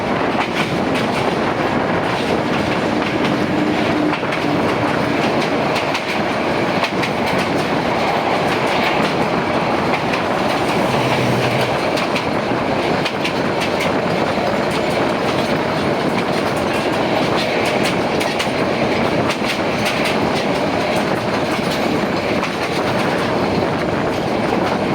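The Tista Express passenger train runs on the Dhaka to Dewanganj line near Sreepur, a loud steady rumble with rhythmic clickety-clack of wheels on rails heard from on board, with no talking.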